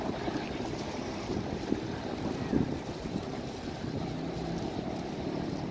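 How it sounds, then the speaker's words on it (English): Steady wind buffets the microphone in a low, continuous rumble, with faint water sounds beneath it and no voices. "it's a little windy"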